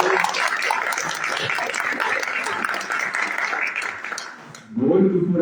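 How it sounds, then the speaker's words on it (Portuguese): Audience applause at a political conference fills the room as steady, dense clapping with cheering, then fades before a loud voice cuts in near the end. "Então, um aplauso para ele."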